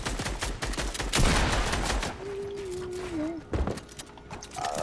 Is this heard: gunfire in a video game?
yes